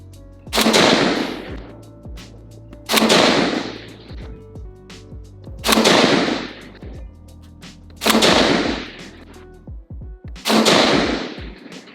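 A Palmetto State Armory AK-47 Liberty GB2 rifle fires five loud, evenly spaced shots of brass-case 124 grain full metal jacket ammunition, each crack ringing out and decaying before the next, with no talking.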